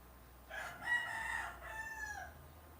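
A rooster crows once at a distance, a single drawn-out cock-a-doodle-doo lasting about two seconds over a low background hum.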